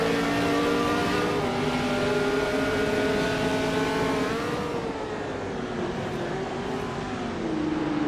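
A classic 1966 McLaren leads a pack of race cars at the start of a video game race at Long Beach, with loud, steady engine drones that rise and shift in pitch as the cars accelerate together.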